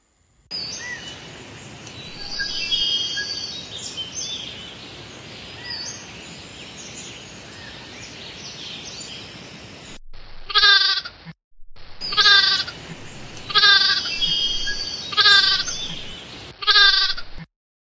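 Cartoon sheep bleat in loud, quavering calls, four separate bleats in the second half, following a long stretch of busy background music and ambient sound.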